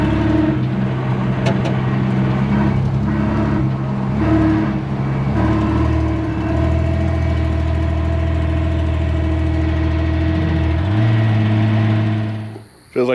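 A Chevrolet C10 truck on air ride suspension runs with a loud, steady low engine rumble heard close up, holding a constant idle before cutting off abruptly at the end.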